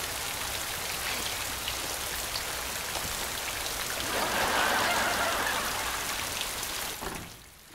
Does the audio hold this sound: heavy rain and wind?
yes